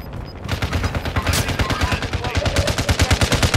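Rapid automatic gunfire in Call of Duty Modern Warfare II, a loud continuous stream of evenly spaced shots running through the whole moment.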